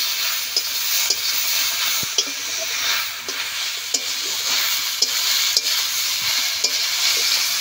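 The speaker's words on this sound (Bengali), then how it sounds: "আবার মশলার সঙ্গে ঢেঁড়সগুলো আবার একটু বেশ ভালো করে কষে নেব।" Okra stir-frying in a pan with poppy seed, mustard, ginger and green chili paste gives a steady close sizzle, with regular soft scrapes and taps of a spatula stirring throughout.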